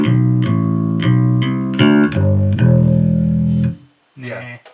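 Electric guitar played through a Tech 21 SansAmp Programmable Flip Top distortion setting, a short run of sustained, gritty chords and notes ringing out before a brief pause and one final strum.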